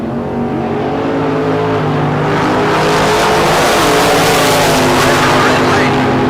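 A 1979 Dodge and a 1969 Chevelle launch off the line at a bracket drag race, engines roaring loud and sustained as the revs build.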